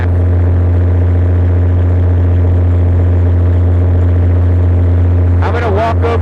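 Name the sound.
diesel generator engine running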